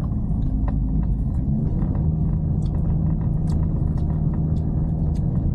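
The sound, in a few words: Toyota Yaris Cross engine straining driving uphill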